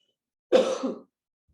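A single short, harsh cough from breathing plaster dust, close and loud, with silence before and after.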